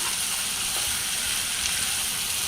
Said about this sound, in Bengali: তা আমি এখন হচ্ছে বরবটিগুলো দিয়ে দিব বরবটিগুলোকেও আমি একটু কষাবো